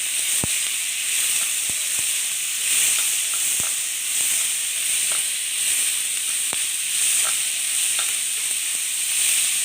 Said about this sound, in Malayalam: സവാള കറിവേപ്പില ഒന്ന് വരട്ടാം